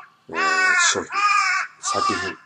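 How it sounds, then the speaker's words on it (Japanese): A crow caws three times in the early morning, loud and close, each call harsh and drawn out with short gaps between. "あ、カラスが鳴いてる。"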